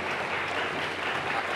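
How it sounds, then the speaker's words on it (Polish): Audience applause for the simultaneous interpreters at a literary festival talk, a steady, dense wash of many hands clapping throughout, loud and close with no voices over it. "Myślę teraz o tych wspaniałych tłumaczach, którzy nam tłumaczą teraz symultanicznie."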